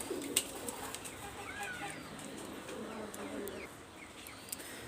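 Red-eyed Kamagar pigeons coo softly in a loft, low rounded calls repeating under faint background noise with occasional light clicks and chirps.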